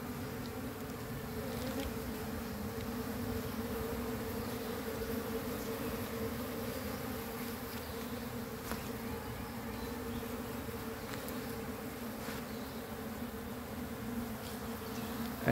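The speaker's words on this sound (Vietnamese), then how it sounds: "Ong nó đang rất là hung dữ đây." A swarm of agitated bees drones loudly and continuously around a hive box, a dense steady buzzing hum with scattered faint knocks and no voices.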